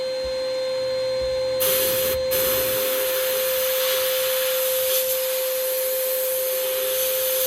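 A sandblaster blasts a thick coat of paint off a workpiece, giving a constant loud hiss with a steady high mechanical whine underneath that stays unbroken throughout.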